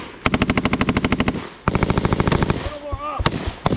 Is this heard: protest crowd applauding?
no